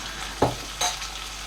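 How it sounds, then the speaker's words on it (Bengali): Large chicken pieces sauté in a pan with a steady near sizzle, broken by two brief stirring knocks. "ঢাকা দিয়ে সুন্দর করে আমি কষিয়ে নেব"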